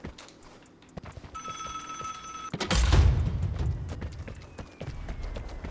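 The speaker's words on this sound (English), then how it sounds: "I'm gonna go answer this phone." In the video game Vigor, a phone gives one short electronic ring, then a loud thump and scuffling movement follow, with faint scattered clicks and no talk.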